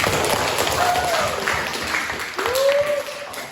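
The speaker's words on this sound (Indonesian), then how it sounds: "Tepuk tangan untuk semuanya." Students applaud in a classroom lesson, a steady broadband wash of clapping that holds throughout, with a speaking voice rising briefly above it twice.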